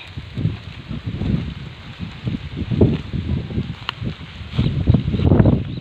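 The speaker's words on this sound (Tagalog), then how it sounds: "Lakas ng hangin." Strong wind gusting over an open rice field, heard as low rumbling buffets on the microphone that rise and fall in uneven surges, with rustling underneath.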